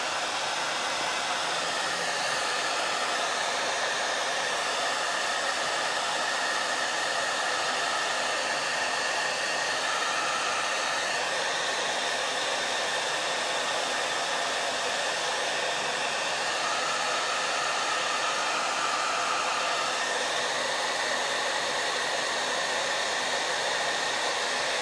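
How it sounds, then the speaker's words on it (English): A hair dryer blows continuously at close range on wet paint, a steady loud whooshing roar with no pauses. "I'm gonna hit this with a blow dryer so that I can keep painting."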